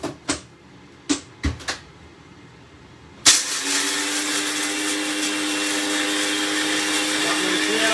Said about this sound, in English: So like a third of a cup of almonds gone in. We're going to blitz those to a powder